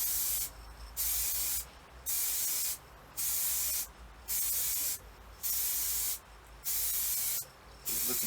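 Seven even, rhythmic bursts of aerosol spray paint hiss on and off in light, thin coats during a Falcon Panther restoration, each lasting under a second, fairly quiet and close with short pauses between.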